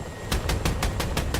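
Gunfire in the F/A-18C flight simulator, an evenly spaced series of about seven sharp shots in quick rhythm over a steady low hum.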